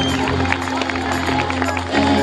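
Audience applauding graduating students at a middle school graduation ceremony, a dense steady wash of clapping with crowd noise and a low hum beneath, swelling slightly near the end.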